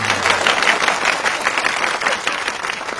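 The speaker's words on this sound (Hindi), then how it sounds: "तालियां" Audience applause bursts out after a punchline in a Hindi comedy short film, a steady wash of many hands clapping that holds loud and close for the whole three seconds, with no voices.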